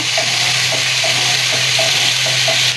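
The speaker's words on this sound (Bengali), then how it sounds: "এদিকে হলো মশলা কষানো হচ্ছে" Spice paste for a crab curry fries loudly in a pan, a dense close sizzle with rhythmic scraping stirs roughly twice a second throughout.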